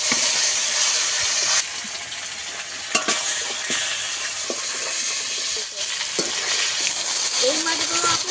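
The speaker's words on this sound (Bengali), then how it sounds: "বাকি মাছগুলো একইভাবে ভেজে নেব।" Aila (khapkhapi) fish frying in a pan of hot oil, a steady loud sizzle with occasional clinks and stirring scrapes throughout, no talking.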